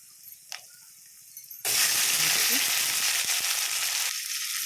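Onions frying in a pan for an ukuma recipe with peanuts: after a quiet start with small clinks, a loud, dense sizzle breaks out and keeps going, close up, then eases slightly toward the end.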